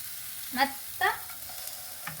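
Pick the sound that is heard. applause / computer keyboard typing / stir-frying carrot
stir-frying carrot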